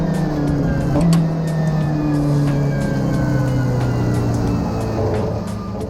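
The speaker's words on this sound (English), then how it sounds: "So what I do, I pull this trigger for the downshifting operation." A BMW M8 GTE race car engine drones steadily at close range, its pitch stepping down through downshifts with a brief swell near the start and no talk over it.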